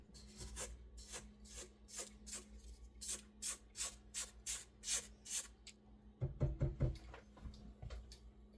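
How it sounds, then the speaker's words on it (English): A utensil scrapes around the sides of a mixing bowl holding dry whole wheat bread ingredients, a quick rhythmic series of close, soft rasping strokes ending in a few heavier knocks and rubs. "I find it works easier to scrape the sides of the bowl while it's all dry"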